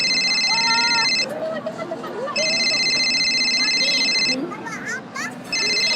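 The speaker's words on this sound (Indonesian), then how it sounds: "Baru telepon dari siapa?" Telephone ringtone sounding in bursts of steady electronic trilling, loud and close, with pauses between rings where people chatter in the background.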